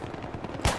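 A gun firing in the shooter game Battlefield 3 on Operation Firestorm, heard as a brief run of rapid, loud shots that ends in one heavier blast, with no talk over it.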